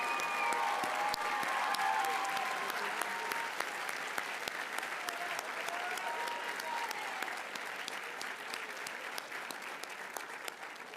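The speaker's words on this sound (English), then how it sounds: "Let's give them another round of applause." Sustained applause from a large audience at the Cushing Academy 2023 school commencement, dense steady clapping lasting throughout and tapering slightly toward the end.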